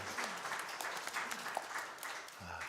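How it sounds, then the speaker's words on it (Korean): A church congregation at a Sunday worship service claps in praise to God, a soft, fairly distant patter of applause with a low voice or tone briefly underneath. "하나님께 영광의 박수 올려드리겠습니다"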